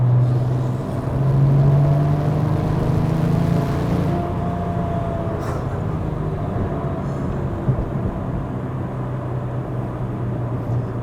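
White four-wheel-drive Porsche 997.1 911 Turbo engine while driving, a steady low drone with a brief surge near the start, then an even cruising hum, with no talking.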